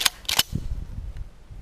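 A flare fired into the sky from a quarter stick of dynamite in a backyard, heard as a few sharp close cracks and pops in quick succession, then a low rumbling tail.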